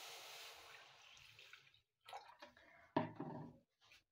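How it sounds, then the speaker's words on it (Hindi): Water is poured into a cooking pan in a home kitchen, first as a steady close splashing stream, then as a few short separate splashes and trickles after a brief pause. "और दूसरे पैन में हम पानी डालेंगे"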